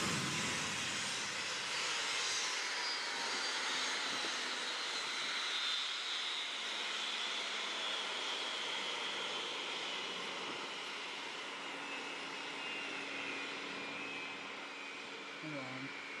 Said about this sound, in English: it's time to shut off our engines.